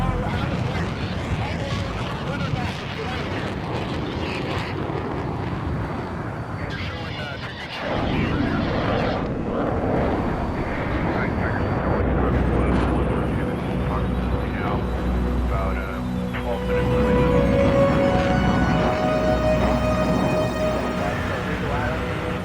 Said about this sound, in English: the Tomcats regroup, drop to the deck, and make a rapid egress out of the area